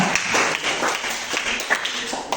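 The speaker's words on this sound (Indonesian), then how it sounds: "Kasih tepuk tangan aja." Students in a classroom clap together in a short burst of scattered, uneven claps, fairly close and moderately loud, with a little talk mixed in.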